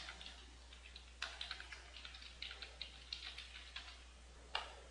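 Computer keyboard typing SQL, a quiet run of irregular clicky keystrokes in short bursts, close and alone against a faint hum.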